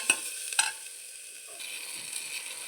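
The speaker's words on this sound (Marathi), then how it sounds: "आता हे मऊ होईपर्यंत आपण टोमॅटो पण परतून घेणार आहोत" Tomatoes sauté with onions in a pan for mutton biryani, giving a soft, close sizzle with a couple of sharp clicks of a spoon against the pan near the start.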